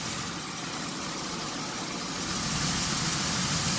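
A car engine idles steadily under an open hood, a continuous smooth hum with a faint broadband whir, close and moderately quiet.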